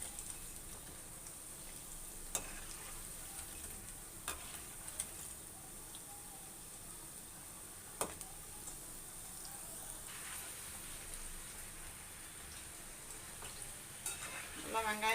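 Maida bonda dough balls deep-frying in hot oil as they are turned, a steady crackling sizzle with occasional sharp pops and a scrape of the utensil near the end.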